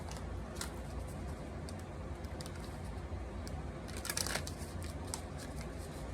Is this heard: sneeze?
no